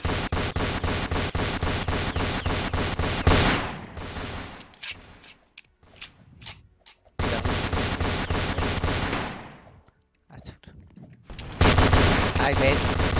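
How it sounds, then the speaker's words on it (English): Rapid machine gun fire in Roblox bursts out in long, loud sustained volleys, breaks off into scattered single shots and quiet gaps, then resumes at full intensity. "I got a machine gun"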